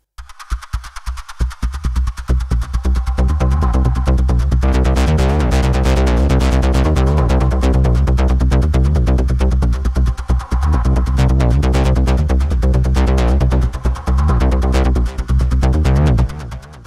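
DUNE 3.6 software synthesizer, its voice played through an MPE controller, gives loud sustained chords with bright plucky attacks as the filter opens and brightens, stopping briefly before resuming.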